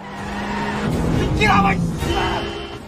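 Cars roar and their tires squeal during a police chase scene in a film. A loud engine rises and passes while a narrator speaks over the action.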